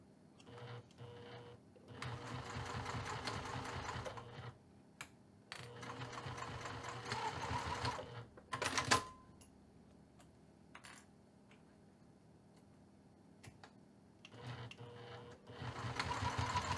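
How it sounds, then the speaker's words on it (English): A sewing machine stitches a ribbon bag strap close to the fabric edge, running in quiet bursts of rapid stitching separated by pauses, with a few clicks and a brief louder knock in between. "I'm going to take this over to the sewing machine, and I'm going to stitch this 1/8 of an inch away from this edge of the fabric"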